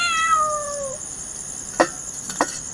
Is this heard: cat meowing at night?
yes